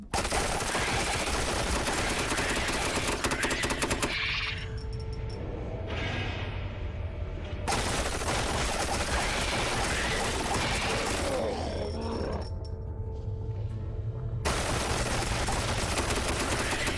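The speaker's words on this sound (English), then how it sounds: "I can put down multiple turrets at the same time." Several deployed automated turrets in a top-down sci-fi action game fire continuous dense bursts of gunfire, broken by brief pauses with mechanical whooshes before the rattling volleys resume.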